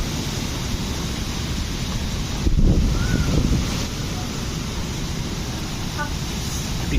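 Constant dense hiss of heavy rain with wind in Dubai, a broadband roar that swells briefly midway, steady and close throughout.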